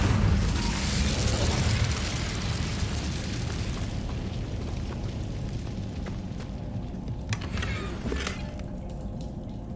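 Hogwarts Legacy's Incendio fire spell bursts out as a loud, broad whoosh and roar that swells at once and slowly fades into a rumbling crackle, with a small sparkle near the end.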